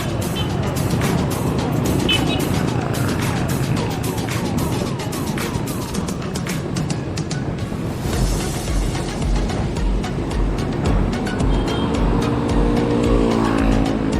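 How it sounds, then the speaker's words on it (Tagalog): Dense traffic of many cars and other vehicles rushing past near a rider on a bike ride in Baras, Rizal, a continuous loud roar with overlapping engine drones and whooshes, and a low engine rumble rising toward the end. "Daming sasakyan ngayon, no?"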